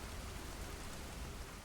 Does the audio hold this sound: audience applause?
no